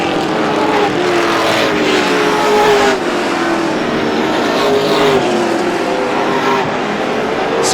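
Race cars rush through turns 1 and 2 at Star Speedway during a racing series 100-lap event, a loud, steady roar of engines with pitch sweeping as the cars pass, and no talk.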